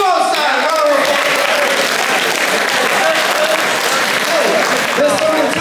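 Sustained, dense applause from a large audience, even and loud throughout, with a voice faintly audible at the start.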